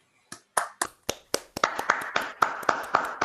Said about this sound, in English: we just give them a quick round of applause